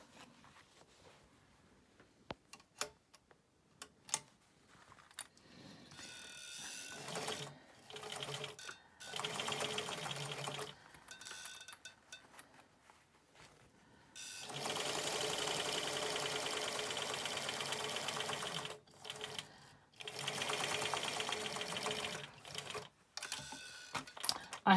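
Sewing machine stitching a cream cotton shaped face mask, quiet bursts of rapid mechanical whirring that start and stop repeatedly, with longer runs in the middle and pauses of near silence between.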